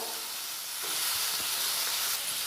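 Onion sizzles in hot oil in a pan for a cabbage, peas and potato stir-fry, a loud, steady hiss that swells after the onion goes in, with a few faint stirring knocks.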